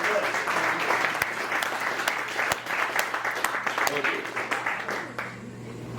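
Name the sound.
comedy show audience applause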